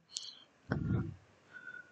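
A computer mouse clicks once, sharp and close, while configuring Dahua DSS Express security software on a quiet desk.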